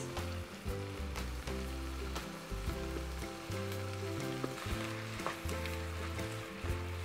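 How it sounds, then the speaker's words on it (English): Cauliflower rice and mixed vegetables sauté in a hot pan for vegan fried rice, giving a steady, close, fairly loud sizzle with scattered crackles and stirring scrapes throughout, with no voices. "once you've sauteed the vegetables for a few minutes, let's add in the cauliflower rice"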